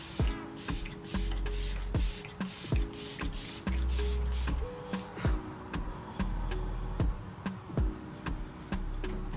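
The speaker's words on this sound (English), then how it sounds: "I'm gonna spray my face" Setting spray misted onto a face in short pump bursts, a quick run of close, crisp hissing puffs in an uneven rhythm, with a few longer sprays mixed in, fairly quiet and with no talking.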